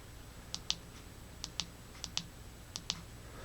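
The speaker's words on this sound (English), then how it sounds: "now we're going to click through the light outputs" An AmuTroch X9 flashlight's tail button clicks in four quick pairs of sharp double clicks, spaced evenly over three seconds, crisp and close against a quiet background.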